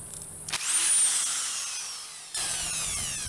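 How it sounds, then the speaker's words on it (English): A power drill whines at high pitch, spinning up sharply then winding down as it drills into the end of a pipe, with a second short burst of drilling near the end. "We're going to use the drill to tap a hole at the end of each one of these pieces of pipe"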